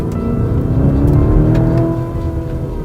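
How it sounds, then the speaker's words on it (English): The biturbo V8 of a 2018 Lamborghini Urus revs up loudly and close, its deep, rising growl swelling and then easing back over a few seconds, with no talk. "That's the biturbo V8 at work, putting out all that torque, all that horsepower at really reasonable engine revs."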